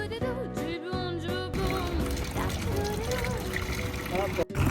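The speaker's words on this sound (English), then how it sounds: "you can see this kind of fountains and you can drink easily because the water goes immediately from the Alps" Water streams from a public drinking fountain in Turin, a continuous splashing trickle heard beneath a person talking close by.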